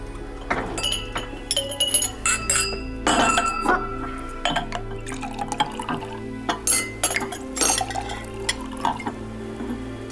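Drinking glasses clink and chime repeatedly as they are gathered for a wedding toast, sharp bright taps close by in an irregular rhythm, with light liquid and handling sounds between them.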